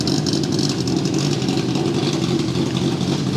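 A BMW E30 race car's inline-six engine idles steadily up close after startup, a constant low rumble with a rough, even hum and no talking.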